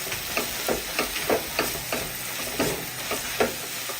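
Spice powders stirred into hot fried onions in a pan, a steady low sizzle broken by a series of soft, regular scraping strokes from the spoon, close and alone without voices.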